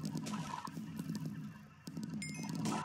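A chicken in a blocky game (Block Hunt) clucks in a quick run of short, repeated squawks, fairly close and loud over faint game background noise.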